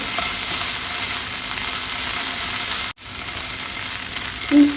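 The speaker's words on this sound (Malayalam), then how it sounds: "ഇതുപോലെ ഇളക്കി കൊടുത്താൽ തന്നെ എല്ലാ ഭാഗവും ഒരുപോലൊക്കെ ഫ്രൈ ആയി കിട്ടും" Peri peri chicken filling fries in a pan, sizzling loudly and evenly throughout with a faint clink of stirring near the end and no one talking.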